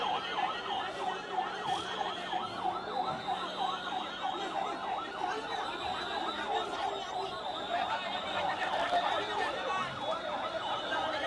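A fire service truck's siren wails continuously as it arrives at a market fire beside Khilgaon Taltala market, its rising and falling tone loud and steady over crowd noise and street commotion throughout.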